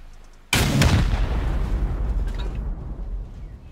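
A rocket explosion in a video game: one sudden loud blast, followed by a long rumbling decay that slowly fades, with no talk.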